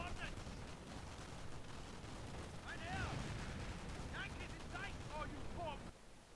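Gunfire hitting a base in the Company of Heroes video game, scattered distant shots and bursts layered over a continuous battle rumble, with a few sharp chirping effects.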